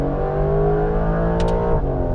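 A Porsche 992 GTS fitted with a Soul Performance exhaust accelerates at speed in top gear, a loud, steady engine drone with rising harmonics filling the whole clip, no talking.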